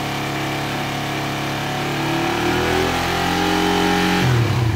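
A car engine revs steadily between roughly 3000 and 5000 RPM, the note rising gradually and holding a loud, continuous drone close up, with no voices.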